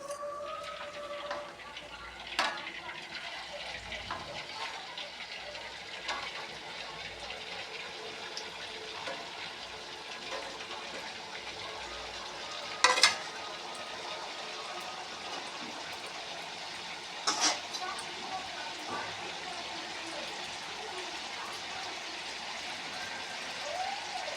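Sakinalu, rice-flour snack rings, fry in hot oil with a steady, faint hiss and crackle that keeps going, broken by a few brief louder pops.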